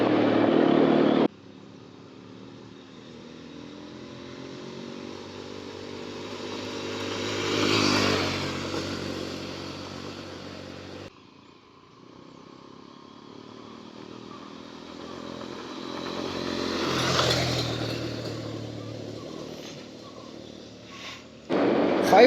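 A Hero XPulse 210 adventure motorcycle rides off-road, its engine droning steadily with two swelling passes that rise and fall in loudness, with no one talking.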